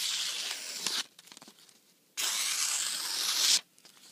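A freshly sharpened knife makes slow push cuts, giving two bursts of close, dry scraping and tearing, the second longer and rising at the end, separated by quieter rustling.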